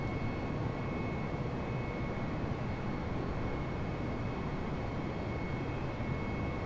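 Steady, unbroken engine drone of an airplane in flight in the Flight Simulator video game, a constant broadband roar heard alone with no voices.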